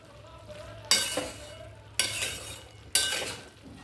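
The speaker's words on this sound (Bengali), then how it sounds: "এবার এটাকে বেশ কিছুক্ষণ ভালো করে কষিয়ে নিই।" Jackfruit curry stir-fried in a pan: three bursts of sizzling scrape about a second apart, each sharp at the start and fading, over a low steady background hum.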